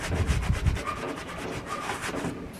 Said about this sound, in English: So you have to keep scrubbing for a while